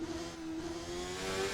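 A race car in a racing game spins its wheels as the engine revs, giving a steady, rising whine and roar that builds over the short stretch with no talk.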